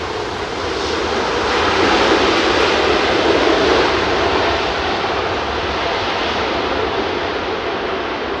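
A JetBlue jet airliner from New York landing at windy London Heathrow, a loud, continuous broad engine roar that swells slightly midway and holds steady, with no talk.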